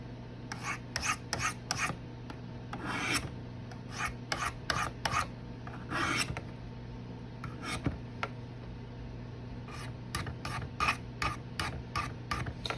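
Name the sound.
scraping a CRKT M-16 knife during cleaning and sharpening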